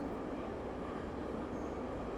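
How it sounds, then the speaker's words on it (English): Subway train in the life-sim game Big Ambitions, a steady rumbling rail ride with continuous broadband noise and faint wheel squeal, loud and unbroken for about two seconds with no voices. "then we'll ride the subway back over to"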